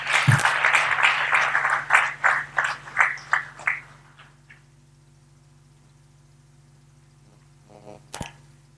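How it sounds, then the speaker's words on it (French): An audience at the inaugural session of a symposium applauds. Claps are dense at first, then thin into a few slower, fading claps and stop, leaving a low hum and a brief clatter near the end. "Sous vos applaudissements, s'il vous plaît."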